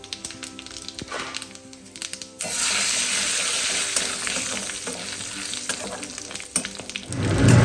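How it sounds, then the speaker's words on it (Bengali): Bay leaves, whole garam masala and cumin seeds dropped into hot mustard oil: light clattering, then an abrupt, loud, sustained sizzle that continues close up to the end. "সর্ষের তেল দিয়ে এখানে 2টো তেজপাতা, গরম মশলা, গোটা গরম মশলা দিয়ে দেবো, আর একটু জিরে ফোড়ন দেবো"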